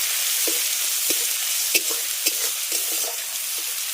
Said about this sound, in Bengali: এবার মশলাটাকে হালকা করে একটু কষিয়ে নেব এক মিনিটের মতো ভেজে নিলে হবে